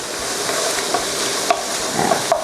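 Pork and chopped shallots fry in a pan over medium heat, a close, steady sizzle broken by a few sharp scrapes of stirring.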